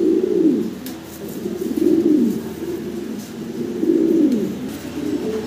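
Pigeons, including Bontinet breed birds at a sale, coo in repeated low rolling phrases, loud and close, in a few rising-and-falling bursts with faint background noise.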